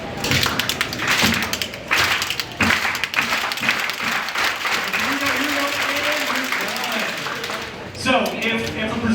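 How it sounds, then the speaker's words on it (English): A crowd claps in slow, sharp beats that gradually pick up, with murmured voices and talking underneath. "we're going to have a slow clap start"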